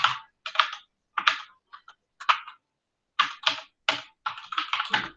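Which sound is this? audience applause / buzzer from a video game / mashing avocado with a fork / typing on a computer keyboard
typing on a computer keyboard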